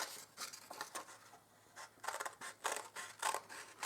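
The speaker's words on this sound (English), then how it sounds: "I'm going to cut in, just starting like this, and then cut in" Scissors cutting book paper into a spiral, close up, as a run of crisp, irregular snips and rustles with brief pauses between cuts.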